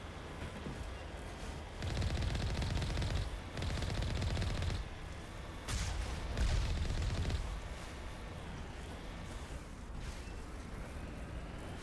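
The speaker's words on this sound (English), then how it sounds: "It sounds like an MG42. Like, more lasery." Three loud, sustained bursts of laser-like machine gun fire from the Mass Effect Legendary Edition video game, each lasting a second or more with short gaps between, over a steady low background and no talking.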